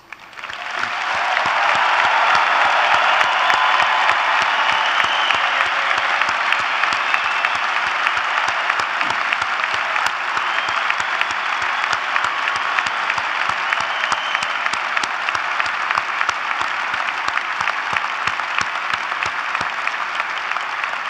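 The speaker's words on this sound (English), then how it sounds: "please join me in giving these incredible creatures a really humdinger of a warm applause." Sustained warm applause from a large crowd at a university commencement, a dense, even roar of clapping that swells in quickly and carries on loud for about twenty seconds without voices.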